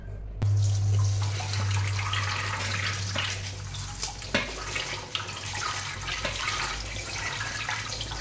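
Tap water running over fenugreek leaves being washed in a kitchen sink, a loud steady splashing rush that starts abruptly and continues throughout with small bumps and clatters, no voices.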